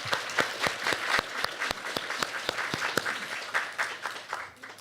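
Church congregation clapping together for a young woman, a steady rolling applause of many hands with sharp individual claps throughout, fairly close and continuous without talk.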